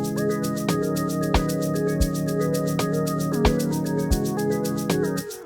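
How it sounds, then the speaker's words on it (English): Synth harp melody programmed in FL Studio for an Amapiano track, bright plucked notes running steadily over sustained chords and a deep bass, with periodic low kick-like thumps and a tight rhythmic hi-frequency pulse throughout. "this harp here, and then it sounds like this"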